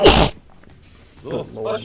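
A single sharp, loud sneeze bursts out at the very start, followed by a brief pause and then a person speaking.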